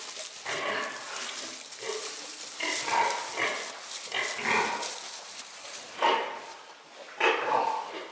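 Newborn piglets feed from a sow during a large farrowing on a farm, giving repeated short grunts and squeals in close bursts, with no talk.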